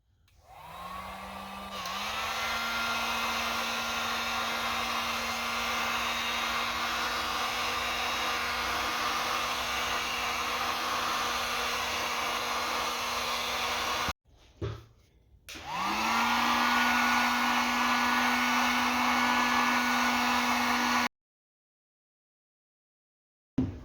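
A heat gun warms the input shaft of an MTX-75 transmission to free a bearing, a steady loud blowing whir that runs for about fourteen seconds, cuts off briefly, restarts, then stops abruptly.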